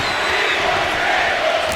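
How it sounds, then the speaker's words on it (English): Pro-wrestling crowd at a Chippy Wrecker Pro-Wrestling show in Rochester, Minnesota, yelling loudly for tables, a steady dense roar of massed voices with no pauses. "the crowd yells that they want tables"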